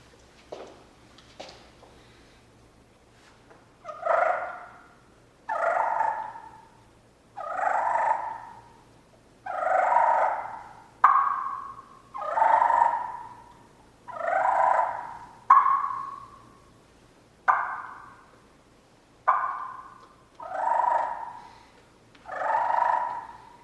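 A mouth call imitates a turkey, giving a couple of sharp clucks followed by a series of about a dozen rolling purrs at an even pace.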